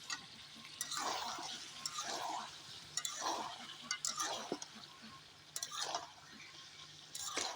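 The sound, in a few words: stir-frying potatoes with meat in a pan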